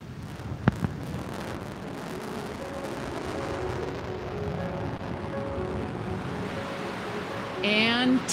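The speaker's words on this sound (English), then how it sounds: "What a spectacular launch to space and back." A rocket launch and booster landing played back from a recording: a distant, rumbling roar with wind-like noise, a sharp pop early on and a louder burst near the end.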